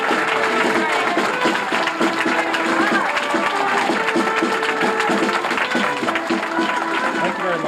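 An enthusiastic crowd at a town hall meeting applauds in a dense, continuous patter of clapping that stays loud and close throughout, with voices mixed in.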